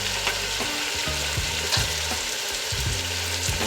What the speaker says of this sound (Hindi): हम इसको थोड़ा सा फ्राई करेंगे